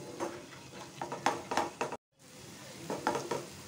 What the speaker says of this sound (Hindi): ऐसे ही हाई फ्लेम पे फ्राई करते जाना है।